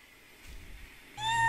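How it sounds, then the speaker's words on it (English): A cat meows once, loud and close, in the video game Garry's Mod, preceded by faint low rumbling. "This cat is no good."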